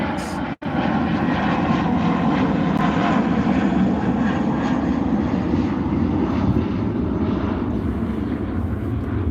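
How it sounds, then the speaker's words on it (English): A fixed-wing airplane passes overhead in a quiet neighborhood, its steady engine roar loud and constant for the whole stretch, briefly cut by one short gap near the start. "I apologize for the plane."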